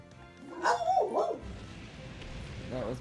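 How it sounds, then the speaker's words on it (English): Pet dog barking indoors, a couple of quick close yips and barks in the first half, then quieter room noise with a faint whimper near the end. "That was my dog."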